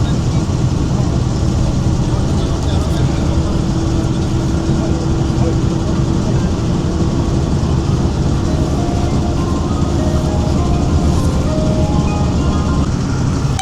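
NBSTC bus cruising along the national highway between Falakata and Siliguri, a steady loud interior rumble and drone with a faint whine, continuous for the whole stretch, with some indistinct voices mixed in.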